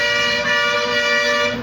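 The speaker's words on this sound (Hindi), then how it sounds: "ये भैया बस वाले इतना हॉर्न मार रहे हैं" A loud, sustained bus horn blares steadily for a couple of seconds near a bridge, close by, with no talking over it.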